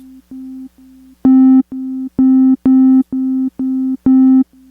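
A plug-in software synth plays short repeated tones with random velocity and very wide stereo, some notes soft and others loud and harmonically rich, in an even rhythm with no talk.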